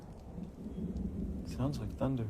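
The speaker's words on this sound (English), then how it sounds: "Sounds like thunder." Low thunder rumbles over steady rain at a moderate level, and a voice speaks briefly near the end.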